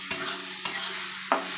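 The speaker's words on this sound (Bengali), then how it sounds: "খুব ভালোভাবে আমার মশলাটা কিন্তু কষানো হয়ে গেছে" Spice masala with onions being sautéed in a pan for a yogurt chicken curry, a quiet steady sizzle with three evenly spaced spatula knocks against the pan, close and with no voices.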